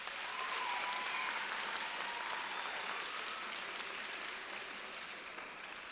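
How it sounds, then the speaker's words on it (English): A crowd of families at a middle school promotion ceremony applauds steadily, many hands clapping in a continuous, even wash that holds for about six seconds and fades slightly toward the end, with faint voices mixed in. "If you'd please give them a round of applause."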